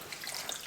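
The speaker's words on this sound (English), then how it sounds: "cover this with our marinade" Marinade being poured over thinly sliced venison for jerky, a soft wet splashing and trickling of liquid, close and fairly quiet, heard alone for under a second.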